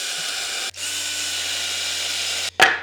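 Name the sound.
hand drill deepening holes in wood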